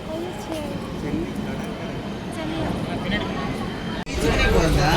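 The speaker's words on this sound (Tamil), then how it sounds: "ட்ரெயின் வந்துருச்சு." A train rumbles into a busy Indian railway station under the murmur of a crowd, ending with a sudden loud clunk and louder rolling noise.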